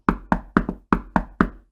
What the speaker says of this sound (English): Who is that banging on my door like a mad person?